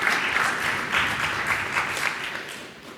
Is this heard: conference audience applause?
yes